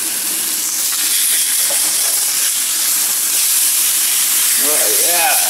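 Meat sizzles loudly over an outdoor fire pit in Edmonton, Alberta after being flipped, a dense, continuous hiss that fills the scene, with a voice briefly heard near the end.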